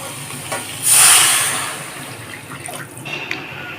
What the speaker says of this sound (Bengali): ডাঁটার ঝালটা ফুটতে শুরু করে দিয়েছে